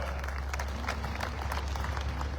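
Audience applause welcoming the Governor at a natural farming event in Kharkhoda, a steady, dense wash of clapping from a large crowd that continues evenly throughout.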